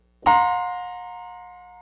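A single orchestral strings chord containing a quarter tone is struck and held, with a faintly out-of-tune, clashing interval ringing steadily before slowly fading out.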